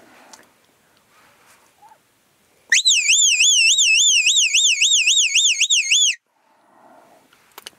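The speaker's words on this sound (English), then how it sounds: "And last of all is the recall whistle." A dog recall whistle sounds one long, loud warbling trill lasting about three seconds, its pitch rolling rapidly up and down, close and alone.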